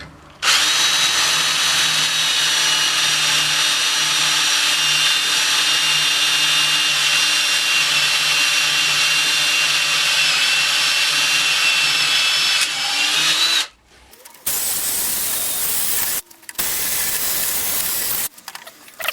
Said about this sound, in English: what I'm going to do now is to take my drill and drill through